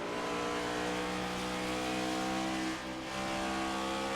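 Loud, droning race car engines rev steadily with harmonic whine at Watkins Glen International, briefly dipping as if easing off the throttle before picking back up; no voices.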